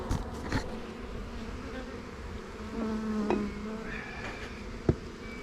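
Honeybees drone around beehives, a soft steady buzz with individual bees passing close now and then, plus a couple of faint knocks, no talking.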